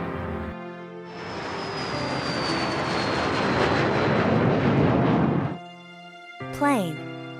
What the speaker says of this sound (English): Plane.